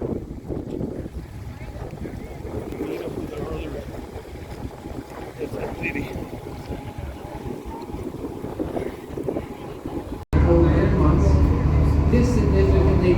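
A tour boat engine drones steadily on a lake near Portage Glacier, Alaska, with wind buffeting the microphone, then the rumble grows suddenly louder and closer near the end.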